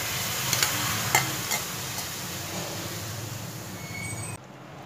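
Cooked cowpeas tumble into a hot kadai and are stirred, giving a steady sizzling scrape with a few sharp clinks near the start, close and fairly loud, ending in a sudden drop to quiet.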